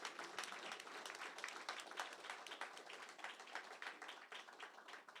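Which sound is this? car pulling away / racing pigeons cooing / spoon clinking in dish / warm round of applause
warm round of applause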